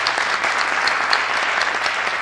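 A conference audience applauds the Minister at the close, a steady burst of many hands clapping at moderate loudness, with some individual sharp claps standing out.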